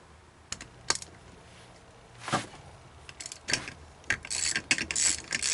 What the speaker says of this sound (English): The last thing to do is to just remove the spark plugs.